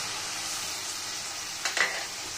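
Chopped tomato, green chilli and ginger-garlic paste frying in a pan, a soft, even sizzle up close with a brief louder crackle near the end.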